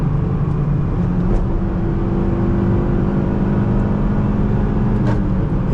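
A 2015 Honda Civic LX with a five-speed manual holds a steady, loud engine drone at high rpm, heard from inside the cabin as a constant whirring hum with no pauses.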